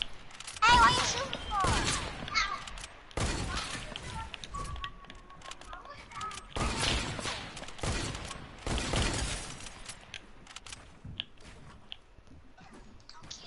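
Several loud, broadband gunshot bursts ring out in clusters across the stretch, some sharp and shattering. Quieter gaps fall between them, and muffled voices talk faintly in between.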